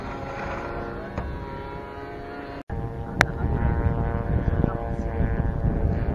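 An RC model warplane's propeller engine drones steadily at an outdoor flying field, a constant buzzing whine that swells slightly louder toward the end, with a brief dropout midway.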